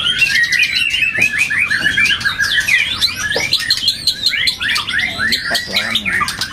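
Loud, busy birdsong from hundreds of magpie robins at once, overlapping whistles, trills and chirps filling the air continuously.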